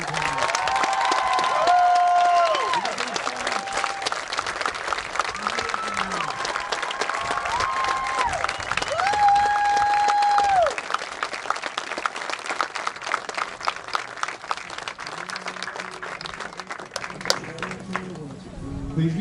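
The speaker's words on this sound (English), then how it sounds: "Give them a round of applause." Applause from a graduation ceremony crowd for a school district's class of 2020, steady clapping with some cheering that carries on for the whole stretch, while voices and shouts rise over it.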